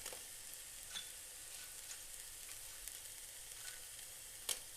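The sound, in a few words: green chilies, onion, garlic and ginger sautéing in pan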